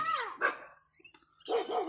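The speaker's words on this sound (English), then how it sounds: "The next door neighbour's dogs are taking great offence to me being in my backyard." Neighbouring backyard dogs bark nearby in two short bursts of sharp, overlapping barks separated by a brief quiet gap.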